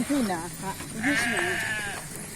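A heavily pregnant Boer crossbred goat doe bleats several times in wavering cries, close and loud, while someone talks over and between the calls.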